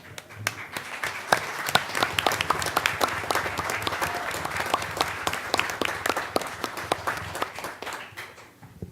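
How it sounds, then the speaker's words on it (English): Sustained applause from an audience at a school board meeting as teachers stand to be recognized, with dense overlapping claps and a few sharper individual hand claps standing out over the steady roll, fading slightly at the end. "if their teachers would stand so we can give them a applause as well"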